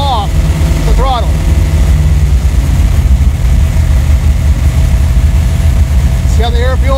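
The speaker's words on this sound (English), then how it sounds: "So I'm going to slowly let off the throttle." A carbureted small-block V8 race engine idles with a low, heavy rumble that stays steady as the throttle is eased off, with someone talking over it throughout.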